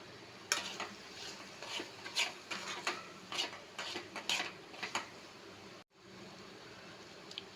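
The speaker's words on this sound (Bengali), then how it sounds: "আমি ঢাকাটা খুলে দেখে নেব টমাটমগুলো সেদ্ধ হয়েছে কিনা" A pot lid comes off a pan of boiled tomatoes for tomato chutney, giving a few close metallic clinks and clatters over a low kitchen hiss, then a brief silence.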